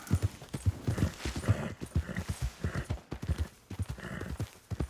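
Horse hooves clip-clop in a quick, steady rhythm, close and distinct, in the Red Dead Redemption 2 video game, with no talking over them.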